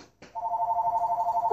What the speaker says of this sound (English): Oops, my phone's ringing.